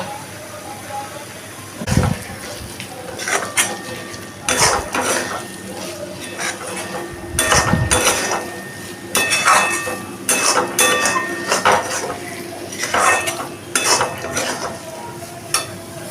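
Samosa filling being stirred and dried out in a pan, with repeated clinks and scrapes of a spoon against metal and a light cooking sizzle underneath.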